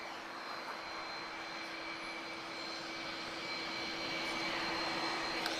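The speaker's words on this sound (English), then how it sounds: "Oh, listen to those CF6 engines." An airliner with GE CF6 jet engines at Lisbon Airport, a steady, faint distant roar with a sustained whine, slowly swelling slightly over several seconds, with no voices.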